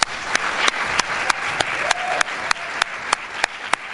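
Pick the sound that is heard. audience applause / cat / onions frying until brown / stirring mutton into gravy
audience applause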